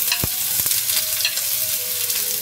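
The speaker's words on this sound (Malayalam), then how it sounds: "ഇനി ഇതിലോട്ട് അരിഞ്ഞു വെച്ച സവാള ആഡ് ചെയ്യാം." Chopped onions hit hot ghee in a pan for pav bhaji, giving a steady close sizzle and crackle with a few sharp stirring clanks of a spoon against the pan and no talking.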